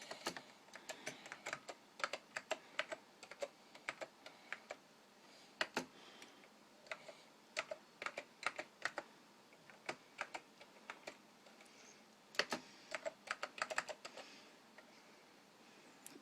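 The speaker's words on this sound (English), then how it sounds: "I really can't type with just one hand." Slow, irregular keystrokes on a Power Macintosh 5400 keyboard typed with one hand: quiet, close clicks in short clusters separated by brief pauses, alone with no talking.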